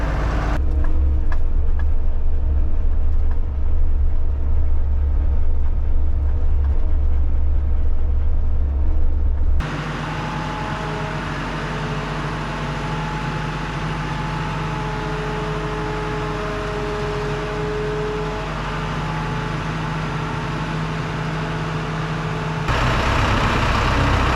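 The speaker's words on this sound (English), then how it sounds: "So I'll just stick this tractor and baler back in the shed until I'm ready to work on it." A tractor pulling a baler is driven back into a farm shed. A loud, close, steady engine rumble runs throughout, and its tone and loudness shift noticeably partway through as the machine moves.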